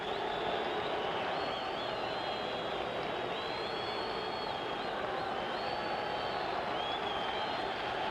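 Crowd at a Jake LaMotta boxing match: a continuous, distant roar of cheering spectrators holds steady throughout, with no talk over it.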